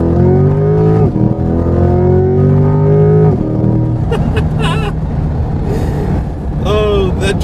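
A 2020 Chevrolet C8 Corvette in full track mode accelerates hard, its engine note climbing loudly through quick automatic gear changes, rising pitch repeating with each shift, with voices speaking over the later part.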